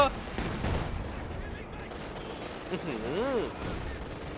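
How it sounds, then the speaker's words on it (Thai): Heavy gunfire crackles in a World War II battle on the Smolensk map in Company of Heroes 2, with rapid overlapping shots under game sounds, and a voice talks briefly over it. "ยิงดุมาก ยิงดุมากแพนเซอร์เห็นหรือเปล่า"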